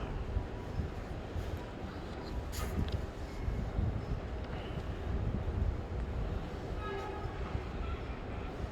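Train passing in snowy weather near a station, a continuous rumbling roar with rattling and brief high squeals, fairly close and steady throughout, with wind buffeting the microphone.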